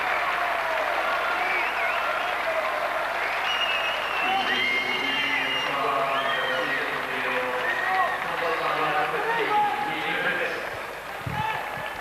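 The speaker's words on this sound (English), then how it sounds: "A sympathetic round of applause as Andy Hurst unfortunately is stretchered o" A large crowd at an under-17 rugby league cup final applauds steadily for several seconds as an injured player is stretchered off, while a commentator talks over the clapping.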